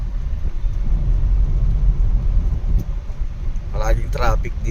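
Street traffic in Kapitolyo, Pasig, a dense steady rumble of passing vehicles heard from inside a driving vehicle, with a brief horn-like burst near the end.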